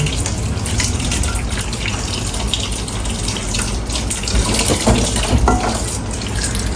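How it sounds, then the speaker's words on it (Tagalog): Tomatoes rinsed under a running kitchen tap, ingredients for sinigang; a steady close rush of water with irregular splashes and spatter as the fruit is handled, no voices. "Ngayon po yung hugasan ko po muna ang ating kamatis bago po natin hawain."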